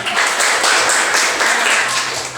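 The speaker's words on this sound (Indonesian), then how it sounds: "tepuk tangan untuk kita" A class of students claps together in a school lesson, brisk close clapping that stays loud and even for a couple of seconds, ending on a sharp final clap.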